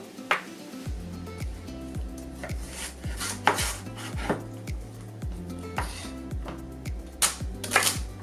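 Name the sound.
chopping celery with a knife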